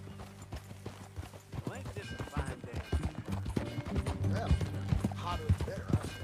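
Horse hooves clip-clop in a steady rhythm in Red Dead Redemption 2 as people talk over them, the hoofbeats close and clear beneath the conversation.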